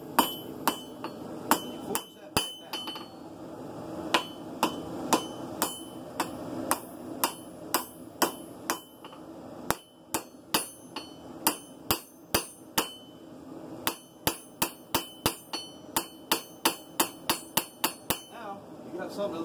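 Hammer forging the tip of a steel knife blade on an anvil, a long series of sharp ringing metallic strikes, sparse at first, then speeding into a steady rapid rhythm, close and loud over a low background.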